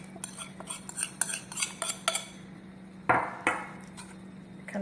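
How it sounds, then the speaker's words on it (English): Milk and yeast being mixed into dry ingredients in a bowl for sweet dinner rolls, with irregular clinks and scrapes of a utensil against the bowl, close and moderately loud, and no talking. "Kind of give it a little mix"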